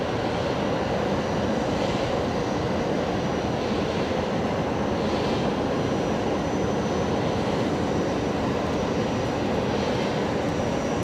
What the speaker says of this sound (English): that Max, the BBJ is coming along taxiway Zulu